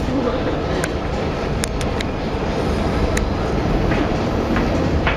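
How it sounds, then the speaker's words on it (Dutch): A tram pulls into a street stop in Antwerp with a steady loud rumble and hiss of wheels on rails, faint high squeals above, and no talking. "De tram is aan het komen, de tram is aan het komen."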